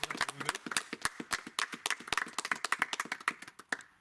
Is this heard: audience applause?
yes